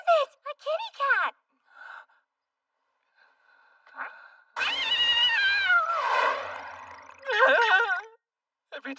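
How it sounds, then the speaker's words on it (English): A cat gives several short, sharp meows followed by a longer, drawn-out wailing meow and further cries, close and clear, with pauses of near silence between. "Look who paid us a visit. A kitty cat."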